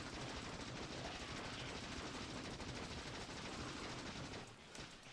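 Gun turrets firing at biters in the Factorio video game, a dense continuous rattle of rapid automatic fire holding steady for several seconds before easing slightly at the end.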